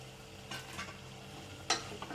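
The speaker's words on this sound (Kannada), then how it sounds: "ಆ ಮಸಾಲೆ ಎಲ್ಲ ಚೆನ್ನಾಗಿ ಹಿಡಿಬೇಕು ಆಲೂಗಡ್ಡೆಗೆ, ಅಲ್ಲಿವರೆಗೂ ಹಿಂಗೆ ಫ್ರೈ ಮಾಡ್ಕೊಳ್ಳಿ" Boiled potato pieces frying with masala in a pan, giving a soft, steady sizzle with a few brief scraping stirs.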